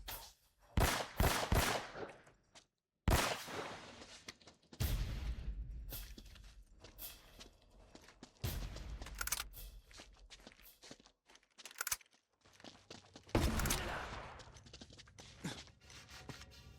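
Gunfire in the video game Uncharted: several sharp broadband shots and bursts scattered across the stretch, with gaps of quiet, scuffling footstep-like movement and booming low impacts between them.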